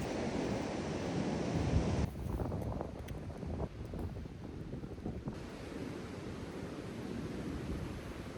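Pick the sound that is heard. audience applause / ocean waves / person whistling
ocean waves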